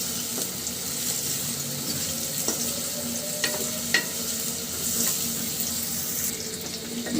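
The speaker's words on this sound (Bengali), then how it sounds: "পেঁয়াজটা কিন্তু ভাজা হয়ে গেছে।" Onion frying in a pan, a continuous soft sizzle with occasional stirring scrapes and light knocks of a utensil, steady and close, with no one talking.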